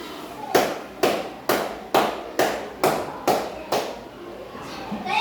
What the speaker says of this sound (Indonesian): Dengarkan tepuk tangan dari bawah.